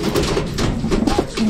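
Red bar racing pigeons coo and warble in a loud, close, continuous cluster, their low throaty calls overlapping with no pauses.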